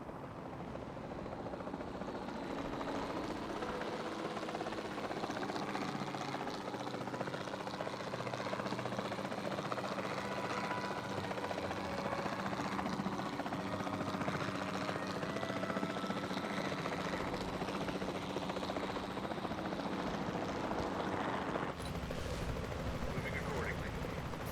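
A loud, continuous helicopter rotor chop and engine drone in the video game Jurassic World Evolution 2 runs throughout, with bursts of gunfire mixed in.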